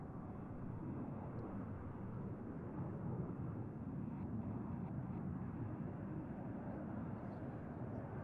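Red Arrows display jets at an air show roar steadily overhead as a broad, continuous rumbling wash of engine noise, loud and unbroken throughout, with no clear speech.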